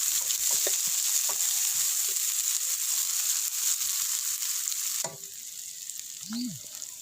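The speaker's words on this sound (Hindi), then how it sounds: "ज़ीरे को अच्छी तरह भून लेने के बाद अब इसमें जाएगा 1 अदद बारीक कटा हुआ प्याज और प्याज को हल्का सा गोल्डन ब्राउन होने तक फ्राई करेंगे।" Finely chopped onion fries with cumin in hot oil, sizzling loud and steady with scattered stirring scrapes, then the sizzle drops and softens partway through as a utensil clinks against the pan.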